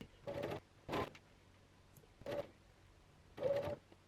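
A sewing machine stitches piping into a dress seam in short separate bursts, four quick runs of whirring with quiet pauses between them, close and fairly soft.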